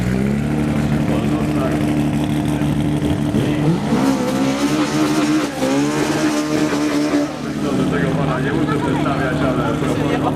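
Drag race car at the Gecko Cup event accelerating hard, a loud close engine roar with rising pitch sweeps as it climbs through gears, beneath a steady engine drone, with someone talking over it.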